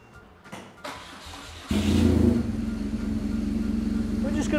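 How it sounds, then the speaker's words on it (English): A motorcycle engine fires up abruptly partway through, settling into a loud, steady idle rumble close by after some quiet handling noises at the start; no one speaks over it. "we're just going to start the bike up."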